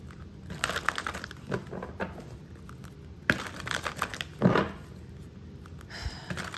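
Tarot cards being handled: soft close rustles, shuffles and taps of card stock, with a brief louder slide partway through and no talk.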